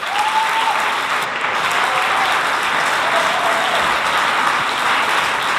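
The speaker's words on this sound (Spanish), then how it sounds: "Sisplau, rebem un fort aplaudiment a José Mari Goenaga." A festival audience gives a loud, sustained ovation as a film director is welcomed on stage. The clapping is thick and even from start to finish.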